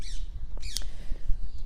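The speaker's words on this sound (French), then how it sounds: "Je suis dans un parc et j'entends les oiseaux" Birds calling in a park, a few brief squawking calls at close to moderate distance over a low rumble of outdoor background noise.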